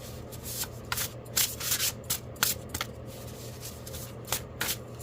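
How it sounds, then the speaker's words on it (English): Tarot cards being shuffled by hand, a close, quiet run of papery riffling bursts in an uneven rhythm, each flurry of card edges rubbing and slapping together, with no talk. "Watch me shuffle, but okay."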